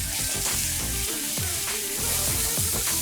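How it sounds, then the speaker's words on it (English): Lobster sautés in a hot pan while shrimp and grits are being made, a steady crackling sizzle punctuated by soft scraping and stirring sounds, close and continuous. "I'm going to add it to my pan. Okay. And then I'm going to saute it a little bit."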